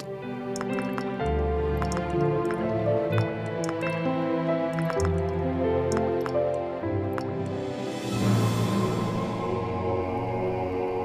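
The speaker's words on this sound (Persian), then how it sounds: "در برخی قسمت‌های غار رگه‌هایی از آب جاری دیده می‌شود" Water drips steadily inside a cave where small streams collect in shallow pools, the repeated drops sounding close and clear over a continuous tonal hum.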